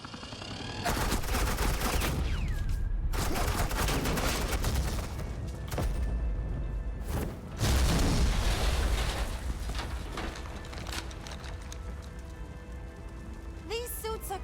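Suppressing gunfire in Batman: The Enemy Within, long rattling automatic bursts with sharp cracks, sustained and loud with short pauses between volleys, backed by a low rumble and faint voices.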